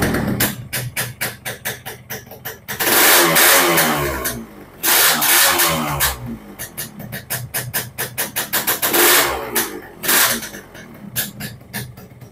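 Two-stroke motorcycle engine with a loud aftermarket exhaust revved hard at close range, repeated sharp throttle blips between sustained high revs over several seconds, popping and crackling as it idles between bursts.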